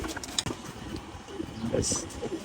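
Pigeons kept as pet birds coo in soft, low, throaty bursts that recur through a short stretch, set against a busy room-like background.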